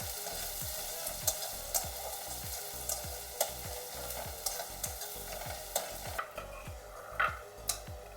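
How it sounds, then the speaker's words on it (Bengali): Onion and garlic frying in a pan for a Bengali village-style taro leaf mash give a constant hiss, broken by regular scraping knocks from the stirring utensil roughly every half second. "পেঁয়াজ, রসুন আর পেঁয়াজ আমি একটু ভালো করে ভেজে নেব, একটু লাল করে ভেজে নেব।"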